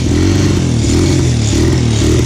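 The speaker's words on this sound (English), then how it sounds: "Let's restart the bike." A motorcycle engine runs at a steady idle on a rainy ride. The low, throbbing rumble is loud and close, holds a continuous pulsing rhythm throughout, and carries slight rattly variations in pitch.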